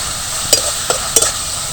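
Chopped tomato sizzles in hot oil with whole cumin seeds and green chilli, a steady hiss broken by three sharp scraping stirs of the spoon, close up and with no talking.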